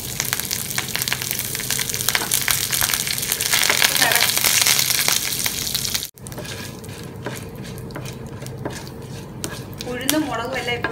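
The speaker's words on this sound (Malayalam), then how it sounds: "ഉഴുന്നും മുളകും എല്ലാം ഇപ്പൊ നല്ലോണം മൂത്തിട്ടുണ്ട്." Urad dal and chilies frying in hot oil in a pan for tomato chutney, a loud, dense sizzle that cuts off abruptly midway, followed by quieter crackling and clinks.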